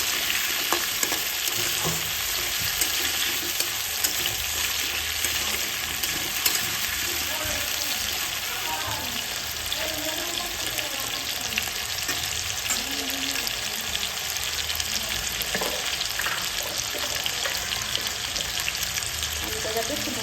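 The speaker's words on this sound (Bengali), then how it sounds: "তেজপাতা, সাদা জিরে আর আলু একসাথে ভাজা ভাজা হয়ে যাবে।" Potato pieces fry in hot oil with bay leaf and white cumin, a continuous close sizzle with occasional stirring scrapes and clinks, and no speech.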